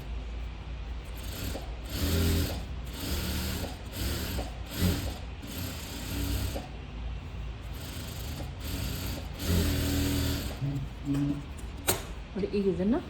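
A sewing machine stitches a blouse in short repeated bursts of mechanical whirring and clicking, running in spurts with pauses between, while someone talks over it.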